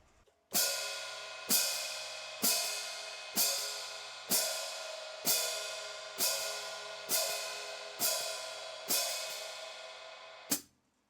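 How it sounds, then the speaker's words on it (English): Ten evenly spaced open hi-hat splashes, each a bright wash that fades before the next, at a steady moderate tempo, with no talking. "We're just going to play splashes on 2 and 4."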